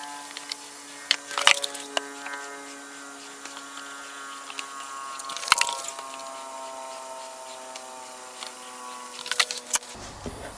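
Motor oil glugging and gurgling as it pours from jugs through a funnel into a car engine, a long steady flow punctuated by a few sloshing bursts and squishy splashes, with no talking.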